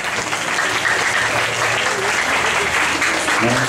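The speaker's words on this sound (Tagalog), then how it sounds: "Palakpakan natin ng Lord sa kanyang buhay." A crowd claps steadily in dense, continuous applause, fairly close, lasting a few seconds.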